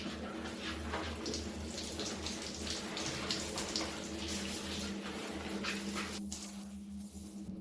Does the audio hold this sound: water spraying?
yes